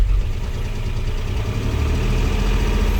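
Inside the cab of a 1985 Jeep CJ10A truck, the engine idles with a steady, fairly quiet low rumble that holds even throughout, with no talking.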